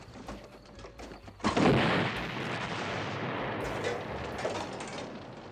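A plane crashes into a truck full of German soldiers in a French war comedy. A sudden loud explosion hits, then a sustained rumbling roar of blast and debris continues to the end.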